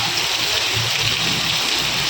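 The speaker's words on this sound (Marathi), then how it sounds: "पाऊस पण एवढा जोराचा पाऊस आला बघा" Dense, unbroken roar of heavy rain pouring down, loud and close, with no voices.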